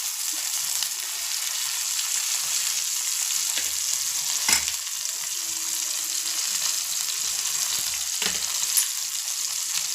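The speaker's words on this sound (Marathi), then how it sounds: "आता मी एक टोमॅटो फ्राय केलेला आहे" A tomato fries in a pan with a steady, moderately loud sizzle, punctuated by a few soft clicks and scrapes of stirring; no one talks.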